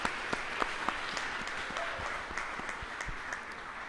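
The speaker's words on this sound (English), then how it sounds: "Quick round of applause for our corporate partners." An audience at a startup pitch competition applauds its corporate sponsors with a brief, moderately loud round of clapping. A few sharper individual claps stand out from the steady crowd.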